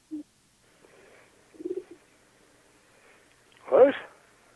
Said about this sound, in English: I swear that's a fucking owl. Is there an owl in the barn?